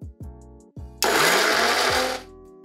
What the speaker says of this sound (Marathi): मिरच्या मिक्सरला थोड्या बारीक करून घेते।